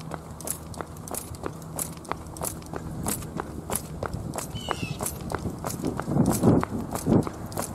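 A person running outdoors while filming with a Panasonic HC-V180K camcorder, quick regular footfalls close to the mic, growing heavier toward the end with some rustle.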